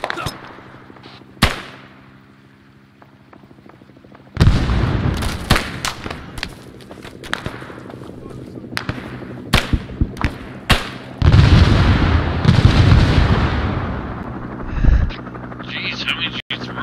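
Frag grenade blasts and gunfire in a close-range combat fight near Pakpong: scattered sharp bangs after a quiet start, then dense loud bursts of shots and booms through the rest, with voices shouting among them.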